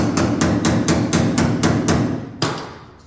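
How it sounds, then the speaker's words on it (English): Sharp metallic hammer taps on a 1966 Chevrolet Impala SS steel quarter panel during rust repair, about seven evenly spaced strikes close by, with a pause before one last blow over a steady low workshop hum. "And then you can tap it with a hammer."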